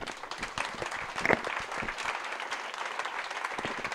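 Audience applause at a live talk event in Florence, a dense steady wash of clapping that carries on throughout without pause.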